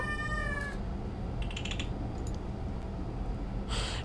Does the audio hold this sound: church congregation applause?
no